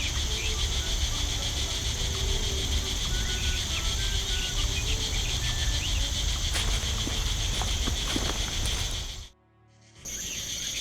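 In The Night of the Rabbit, a cricket hidden in a barrel keeps up a dense, ratcheting chirr over soft ambience, continuous and prominent before cutting out abruptly near the end and resuming briefly.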